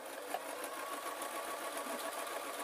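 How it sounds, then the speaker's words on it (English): A domestic sewing machine hems fabric around a curve on a travel pillow, giving a soft, steady, rapid stitching whir that stays quiet and even throughout. "I am having to stop the sewing machine and then move"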